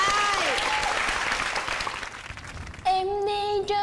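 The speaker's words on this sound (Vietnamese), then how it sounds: "Rồi vỗ tay." Audience applause on a Vietnamese dating show fills the first few seconds as a broad clapping wash, fading before music with a sustained melodic tone comes in near the end.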